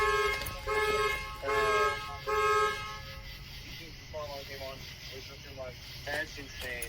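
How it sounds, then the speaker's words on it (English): A loud electronic alarm blares in three long steady tones at the start, then falls silent as people talk in the background. "Was that you that just turned on the alarm?"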